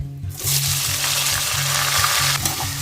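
Chopped onions and whole spices fry in hot oil for a Bengali potato chicken curry, a loud steady sizzle with rhythmic low stirring pulses repeating throughout.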